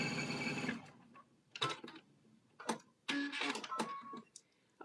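Sewing machine stitching pin tucks with a twin needle: short mechanical bursts of rapid needle chatter, starting and stopping several times, close and clear with quiet gaps between runs.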